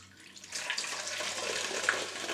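Homemade ginger beer poured from a jug through a funnel into a bottle, a steady rushing trickle that starts after a brief pause and continues evenly, close by.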